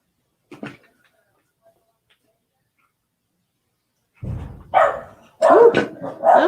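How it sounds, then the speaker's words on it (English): Several excited barks from pet dogs in a house, bursting out in the second half after a near-silent stretch with one faint early yelp, the barking loud and close, likely set off by fireworks outside. "So apologies if you hear my dogs."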